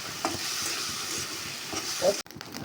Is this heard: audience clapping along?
no